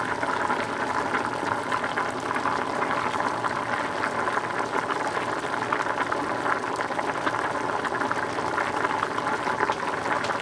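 Pasta boils in a pot on a stove, a dense continuous bubbling and rolling water sound, steady and moderately loud throughout with no voices.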